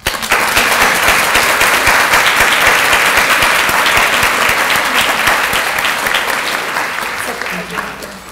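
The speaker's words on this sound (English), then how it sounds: "So please give a warm round of applause for Riya." Sustained applause from a luncheon audience at a Women in IT Channel Recognition event, dense steady clapping that fills the room for about eight seconds before tapering slightly near the end.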